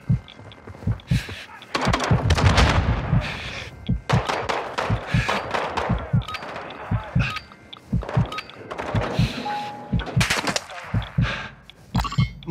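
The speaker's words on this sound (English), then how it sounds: "You are taking effective fire." Gunfire in the video game DMZ: scattered loud thumping shots and heavy impacts in irregular bursts, mixed with clanks and other game noises throughout.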